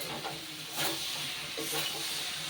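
Soybean chunks and potatoes stir-frying with spices in a pan, a close steady hiss of frying with a couple of spatula scrapes.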